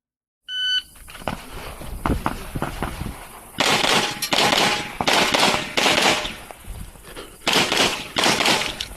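Quick double shots from a pistol at a shooting range, several sharp loud cracks in bursts with brief gaps between pairs, close and echoing, with no talking over them.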